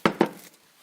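A bowl of porridge set down on a kitchen surface, two quick close knocks of ceramic or glass a fraction of a second apart, with a short ringing decay and quiet afterward.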